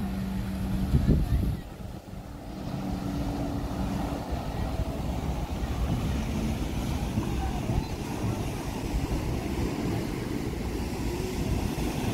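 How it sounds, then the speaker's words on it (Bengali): A tour boat approaching on Lake Brienz at Interlaken, its engine a steady low rumble with water wash, continuous and moderately close, following a brief knock near the start. "বোট আসছে। এই বোটটা করে আমরা এই লেকের একটা ট্রিপ করব।"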